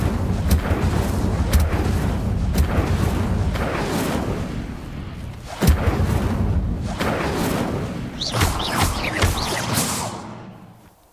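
Repeated Incendio fire spells cast in the Hogwarts Legacy video game, a string of loud booming bursts roughly every second or two over a dense roaring bed, ending in a crackling flurry that fades out.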